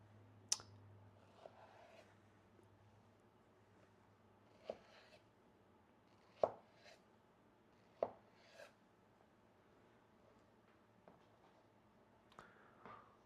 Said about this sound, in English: take your slices of mango and cut them into sticks